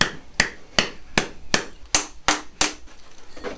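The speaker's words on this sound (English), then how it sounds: "You've got to give it a good whack." A tin of pre-cooked dog food being whacked against something, giving about eight sharp, close knocks in a fairly steady rhythm, each with a short ringing decay, followed by softer trailing taps.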